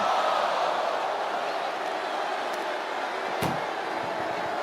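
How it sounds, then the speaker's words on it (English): In the wrestling video game WWE 2K25, an ambulance door slams shut with a single sharp thud over a loud, constant arena crowd roar. "Doing their best just to shut that first door."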